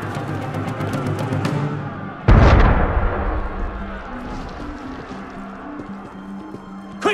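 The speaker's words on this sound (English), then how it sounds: "That was cannon fire." A single loud, booming cannon blast in an 18th-century Paris scene of the video game Assassin's Creed Unity erupts suddenly and rumbles away over a low ambient bed.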